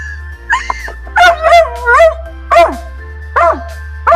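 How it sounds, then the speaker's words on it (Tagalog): A dog tied on a leash outdoors gives a series of short, close yelping barks and whimpers in irregular bursts, with a low steady hum underneath. "Tahol ka pa ng tahol. Hindi ka naman makawala dyan sa tali mo."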